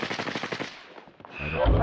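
Gunfire in the video game Call of Duty Warzone: a rapid burst of close, loud automatic shots that thins out midway, followed by scattered thuds and a rising low rumble.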